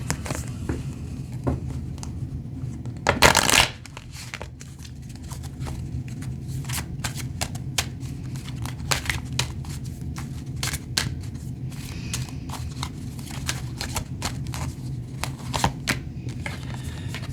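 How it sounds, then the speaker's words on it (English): Cards being shuffled nearby: a long stretch of dense riffling and soft flicking, with one sharper burst early on, and no talking. "I need to shuffle again."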